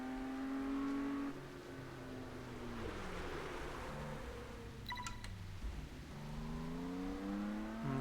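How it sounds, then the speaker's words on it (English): A car engine in the racing video game Test Drive Solar Crown drones and revs, dipping as the handbrake swings the car through a quick turn, then climbs again; a brief electronic beeping sounds in the middle. "To make a quick 180-degree turn, or to negotiate tight hairpin turns, use the handbrake."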